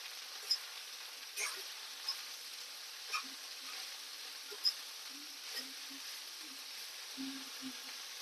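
Cabbage stir-fried in a pan for a Godavari-style cabbage pulihora popu, a soft steady sizzle with scattered scraping clicks of the spatula, close and alone without talk.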